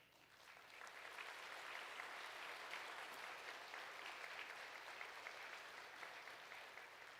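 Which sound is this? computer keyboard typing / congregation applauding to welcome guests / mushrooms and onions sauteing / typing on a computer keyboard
congregation applauding to welcome guests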